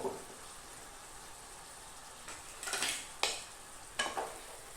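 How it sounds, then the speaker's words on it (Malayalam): Green masala of mint, coriander, green chilli and small onions being stirred through chicken in a pan, giving a soft low sizzle with a few scraping stirs near the end, no talk. "ഇത്രയുമുള്ള മസാല ചേർത്തത് നന്നായി ഒന്ന് ഇളക്കുക."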